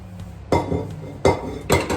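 Washed pots, dishes and cutlery clatter and clink in a home kitchen as they are dried and put away, with three loud close clanks of metal and crockery over soft handling noise.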